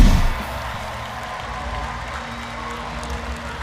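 A sold-out crowd at a Big Ten wrestling meet in Minnesota's Maturi Pavilion, a brief burst of applause and cheering that quickly settles into a sustained crowd murmur.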